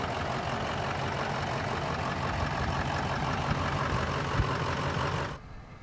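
A Ford E350 Econoline cargo van with a 6.0 Power Stroke diesel idles steadily after a cold start, giving a constant, close, rough engine drone that cuts off abruptly near the end.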